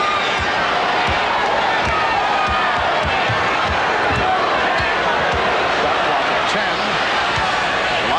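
Roaring basketball arena crowd at an NBA Finals game between the Knicks and Rockets, a dense, steady wall of cheering and shouting with scattered thumps, loud and continuous throughout, with a commentator talking over it.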